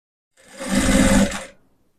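A sewing machine stitches sleeves onto a shoulderless blouse in one steady, close run of about a second, rising quickly and then fading out.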